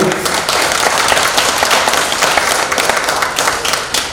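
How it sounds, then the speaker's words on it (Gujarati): A school reunion crowd in a hall claps steadily, a dense, sustained round of applause that holds at full strength throughout. "બાકી તમે લોકો તાળી પાડી લો"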